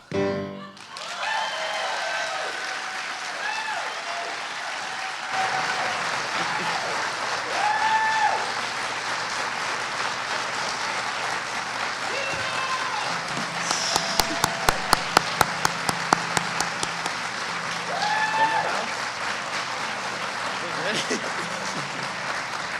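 Sustained audience applause at a college spring convocation, a steady broad wash of clapping that runs the full length, with a brief burst of sharper, evenly spaced claps partway through; voices are faintly mixed in.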